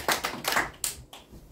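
A few distinct hand claps before a lecture on Buddhist philosophy and modern science, close and uneven, only a handful of separate claps in quick succession.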